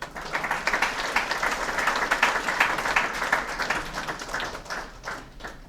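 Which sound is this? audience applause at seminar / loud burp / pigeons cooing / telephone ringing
audience applause at seminar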